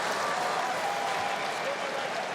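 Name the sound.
rugby crowd applauding both teams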